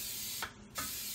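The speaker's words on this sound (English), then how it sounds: "It's clarified butter cooking spray." Clarified butter cooking spray sprayed into a pan: two short aerosol hisses spaced a fraction of a second apart, close and fairly soft.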